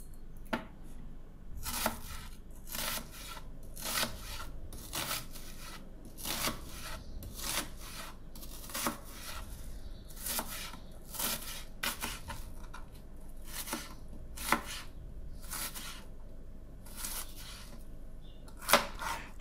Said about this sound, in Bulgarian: Започвам, като се нарязвам лука на дребно.